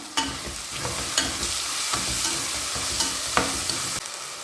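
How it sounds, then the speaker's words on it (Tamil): Mutton gravy masala sizzles in a pan as salt is stirred in, with a steady frying hiss and occasional scrapes and knocks of a spoon against the vessel. The stirring sounds are close and there is no talking. "இப்போ இதுக்கு தேவையான உப்பு சேர்த்து வதக்கலாம்"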